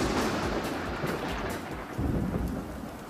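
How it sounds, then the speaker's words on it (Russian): Heavy rain pours steadily during a wedding, with deep rolling thunder rumbling beneath it, loud and close throughout without any talking. "Во время свадьбы пошел дождь."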